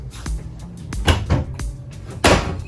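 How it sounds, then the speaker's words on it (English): Kitchen cabinetry doors fitted with strong stronghold connection latches are opened and shut, giving a few close clunks and thuds with short pauses, the last one loudest. "we've got these stronghold connection points on all of our cabinetry doors, all right? And it's pretty dang strong"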